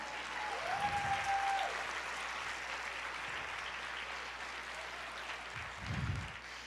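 A church congregation applauds during a Portuguese-language sermon, a steady, dense wash of clapping from many hands at moderate distance, with a brief sustained tone and low hum underneath.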